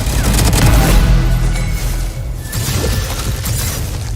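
A VALORANT Champions Collection weapon skin fires in a rapid, loud burst of gunfire with sharp, crackling shots that stay dense throughout, with no voices over it.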